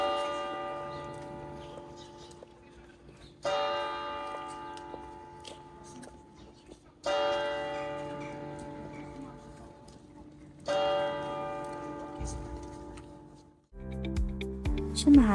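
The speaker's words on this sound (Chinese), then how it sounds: "中间我们还意外听到教堂的钟声" Church bells ring out in the small town of Colmar, three slow, heavy strokes spaced a few seconds apart, each hum decaying before the next, with quiet street ambience and a brief rumble near the end.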